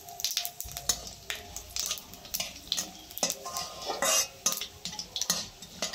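Whole spices of a five-spice mix crackle and sizzle in hot mustard oil in a kadai, with frequent scraping and stirring clicks of a spoon against the pan, close and steady, no voices.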